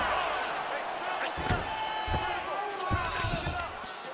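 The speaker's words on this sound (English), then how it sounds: "Slams him to the canvas with authority." A fighter slammed to the canvas after a double-leg takedown in the UFC 3 video game, with dull thuds landing under continuous commentary talk and a low crowd murmur.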